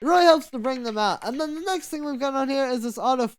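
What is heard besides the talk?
None of the usual background noises is heard.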